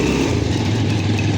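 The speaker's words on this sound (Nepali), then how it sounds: "बाइकहरू मजाले चल्दै" Motorcycles ridden on a mountain road, heard as a steady, close engine hum with a low, even drone throughout and no talk.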